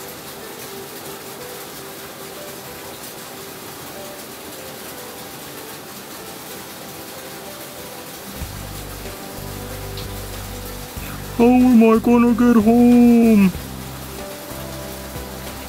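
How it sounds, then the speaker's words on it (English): Heavy rain pouring down, a steady hiss throughout, joined partway by a low rumbling engine-like drone and a short burst of tonal, voice-like sound near the end. "It's raining really hard."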